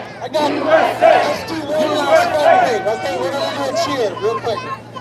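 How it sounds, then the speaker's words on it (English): A rally crowd outside the Capitol chants a cheer in unison, loud overlapping voices rising and falling in repeated shouted bursts, close by. "we're going to do a cheer real quick"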